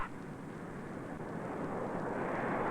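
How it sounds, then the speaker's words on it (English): A big four-engine jet airliner begins its takeoff roll in 1961, its engines roaring as a broad, steady rush that slowly swells louder, with no talk. "The captain pushes the throttle, and the big jet starts off."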